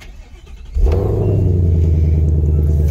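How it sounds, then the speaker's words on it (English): A 2021 Ford Mustang Shelby GT500 with an aftermarket intake cranks and catches, its V8 bursting into a loud, deep idle rumble that holds steady after a short quiet lead-in. "Let's go ahead and start the car."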